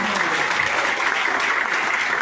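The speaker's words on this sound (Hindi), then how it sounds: "एक बार जोरदार ताली" An audience at a gathering claps loudly and continuously, a thick, even roar of hands sustained for a couple of seconds.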